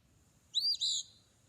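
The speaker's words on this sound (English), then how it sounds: "This is what the eastern phoebe sounds like." A recorded eastern phoebe call, a single brief two-part chirp, clear and close against a quiet low background hum.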